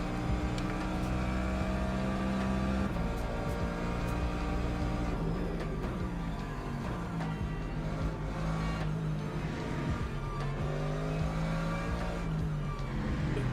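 Hypercars and GT3 race cars in the Le Mans Ultimate racing game, a constant loud roar of racing engines with shifting revs and tire squeal, several cars close together, running unbroken throughout.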